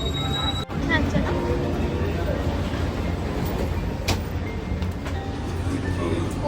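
A train rumbling along with a steady, loud low roar and faint rail clatter, heard from inside while passengers change between trains.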